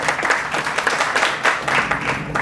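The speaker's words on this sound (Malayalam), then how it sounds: "സോ രേണുകയ്ക്കും ഒരു വലിയ കൈയടി" A small gathering at a Christmas and New Year celebration breaks into brief, steady clapping, a dense patter of hands close by lasting a couple of seconds.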